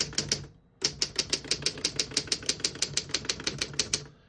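Keys strike on a 1940 Underwood S model desktop typewriter: a short burst of three clacks, a pause, then a fast, steady run of crisp, close strikes typing out a line.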